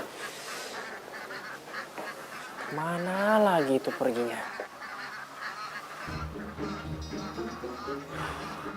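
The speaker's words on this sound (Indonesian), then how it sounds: "Tumben itu bebek jam segini berisik." Ducks at a pen make a loud burst of honking quacks in the middle, amid a person's speech before and after, with background music entering toward the end.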